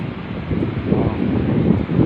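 Steady, loud wind buffets the microphone in low rumbling gusts on a high spot overlooking the sea in Lingayen, Pangasinan, with no other clear sounds.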